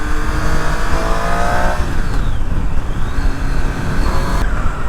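A Triumph Street Triple 765 R, a 2018 motorcycle, rides close and loud, its engine droning and revving steadily with rising and falling pitch sweeps, no voices over the continuous noise.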